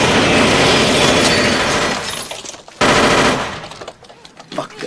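Rapid burst of gunfire sampled into a hip-hop beat tape, dense and loud with clattering, shattering texture that drops out abruptly, then returns briefly before fading into sparser hits.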